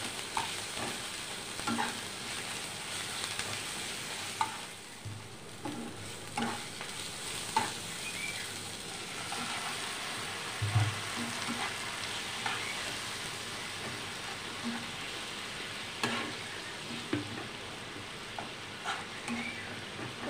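Spices frying in a pan with a little water, salt added, a continuous gentle sizzle broken by scattered scrapes and taps of a spoon stirring, fairly quiet throughout.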